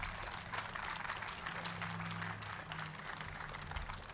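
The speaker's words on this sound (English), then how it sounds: "Everyone give Garrick a round of applause." Crowd at the launch of an autonomous vehicle initiative in Grand Rapids applauds a utility executive taking the stage, an even, continuous patter of many hands heard at a distance with a low hum beneath.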